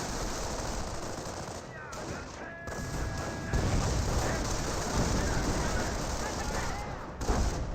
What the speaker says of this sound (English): Does use suppressive fire onto the Rangers.